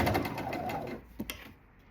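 A sewing machine runs briefly, stitching fabric for a small zippered toiletry bag, then stops, leaving a couple of faint clicks as the fabric is shifted.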